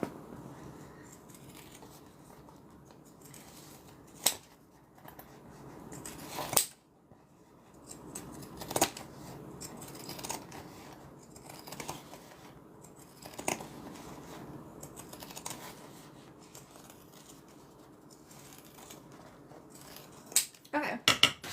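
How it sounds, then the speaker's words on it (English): Scissors trim away excess fabric in a series of sharp, close snips spread irregularly over about twenty seconds, with quieter rustling between cuts and a cluster of quick snips at the end. "now I'm going to trim this extra fabric away, just like I did here."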